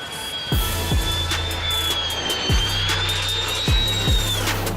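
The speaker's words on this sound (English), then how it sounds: "Look at this plane in action against the forest fires." A firefighting airplane works against forest fires, its jet-like engine roar steady and loud throughout with a rising and falling high whine, while several low thumps punctuate the noise.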